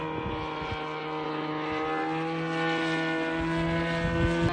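A drone flies over a vineyard at the Kama estuary, giving off a steady, continuous propeller whine with layered buzzing tones that holds at a fairly even level throughout, with no talk.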